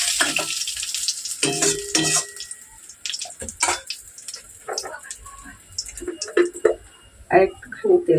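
Parshe fish fry in hot oil with an uneven sizzle and spattering pops. Spatula scrapes and a spoken voice are heard intermittently over the crackle.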